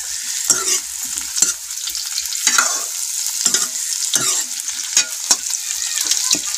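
Jackfruit curry stirred in a sizzling pan over a village cooking fire, a spoon scraping in repeated strokes over steady frying hiss, close and fairly loud with no talk.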